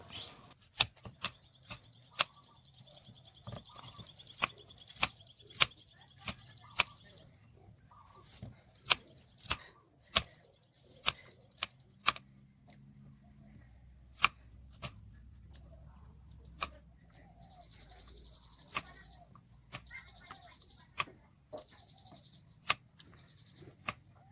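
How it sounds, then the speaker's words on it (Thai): Sharp, sparse knife strikes on a cutting board as taro is chopped into small cubes, irregular and fairly quiet, with faint high chirping in the background and no talking. "ต่อไปเราก็มาหั่นเผือกนะครับ"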